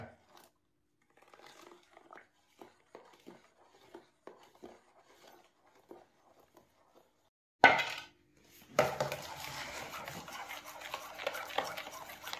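A whisk beating milk in a bowl for homemade cake batter gives soft, irregular clicks and taps, then a louder, continuous scraping and stirring near the end, close to the listener.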